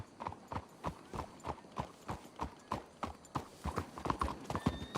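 Horses' hooves clip-clop in Red Dead Redemption 2, a steady, even run of crisp hoofbeats at a brisk walk, moderately close and continuing throughout with no one talking.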